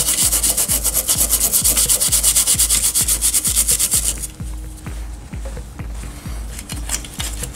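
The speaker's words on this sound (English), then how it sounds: "I've got an old brush with some alcohol. I'll just give it a bit of a clean." An old brush scrubs a grimy DMD circuit board from a WPC pinball machine with alcohol, in quick rhythmic back-and-forth strokes, loud and harsh at first, then lighter and softer.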